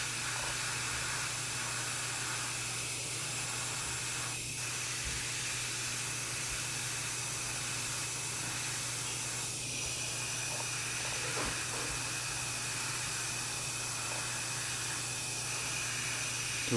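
A steady airbrush hiss runs unbroken at close range while paint is sprayed on a quarter-scale Deadpool figure, with a faint hum underneath and no talking.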